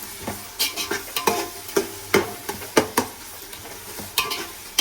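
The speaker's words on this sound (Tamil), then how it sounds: "வெங்காயம் வதக்கின பிறகு பச்சை மிளகாய் இதையும் சேர்த்து நல்லா வதக்கணும்." Onions and green chillies sauté in a pan for home-made chicken dum biryani, with a soft sizzle under repeated scraping stirs of a spoon against the pan, close and irregular, without talking.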